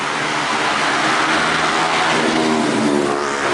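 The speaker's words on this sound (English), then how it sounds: "they're the more modern motorbikes that just flew past us" Modern motorbikes shoot past close by with a loud, whiny engine roar that swells and fades over a few seconds.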